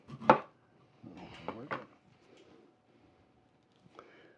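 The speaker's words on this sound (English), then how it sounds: "Then I'm going to slice it in two." A knife cuts a lime in two on a board while pico de gallo is being made: one sharp chop, then a few quieter cuts and knocks close by.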